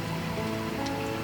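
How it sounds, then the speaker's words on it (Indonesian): Light drizzle falling over rice fields and hills, a dense, even patter of fine drops as a steady soft hiss with no gaps, fairly faint and with no voices. "Sekalipun dalam keadaan hujan, perasaannya hujannya rintik-rintik"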